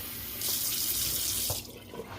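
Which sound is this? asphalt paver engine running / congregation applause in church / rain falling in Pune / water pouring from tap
water pouring from tap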